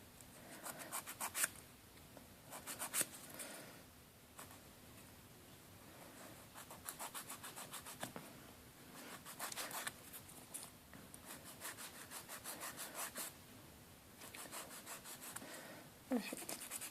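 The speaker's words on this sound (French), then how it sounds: "je vais limer le deuxième" A nail file rasps back and forth across a UV gel nail in repeated bursts of quick scratchy strokes, close and steady, pausing briefly between passes.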